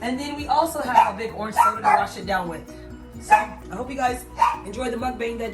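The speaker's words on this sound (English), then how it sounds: "sorry about the dogs in the background" Dogs bark and yip in the background of a room while someone talks over them at a food mukbang, the short barks popping up repeatedly beneath the steady speech.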